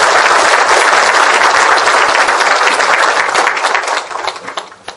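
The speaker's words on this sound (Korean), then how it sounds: "다시 한번 큰 박수 부탁드리겠습니다" Lecture audience applauds at the close of a Korean humanities talk on the Donghak Revolution, a dense, steady wash of clapping that stays loud before thinning and fading in the last second.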